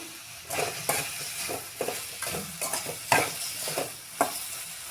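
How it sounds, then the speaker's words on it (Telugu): Green chillies and tomatoes cook in a pan for a village-style okra chutney, giving a soft steady sizzle broken by repeated scraping stirs at a close, even rhythm. "పచ్చిమిరపకాయలు టమాటాలు మగ్గుతున్నాయి కదా"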